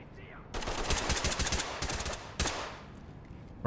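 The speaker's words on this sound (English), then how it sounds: "We're already taking fire." Bursts of rapid automatic gunfire in the Ready or Not tactical shooter, one long volley followed by a shorter one, loud and close, with faint game ambience between.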